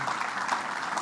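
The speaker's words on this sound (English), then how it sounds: "give yourselves a round of applause" Audience applause fills a public talk on sustainable development in Rochester: a brief, steady burst of many hands clapping, moderately loud and continuous, with no voices over it.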